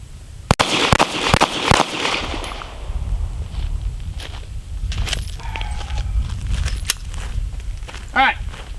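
Gunshots fired at a shooting target from a distance on an outdoor range: a quick burst of several sharp cracks near the start, then a few scattered softer reports and a clinking sound near the end.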